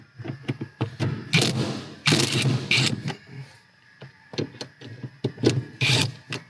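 A rattle gun fitted with a T50 Torx impact bit backs out bolts on a Toyota Prado 250, giving short, sharp bursts of hammering separated by quieter clicks and handling knocks, all close up.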